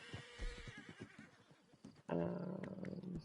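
A horse whinnies loudly and close after a stretch of muffled rustling and low noises, the call holding a shaky, pitched tone for about a second before fading.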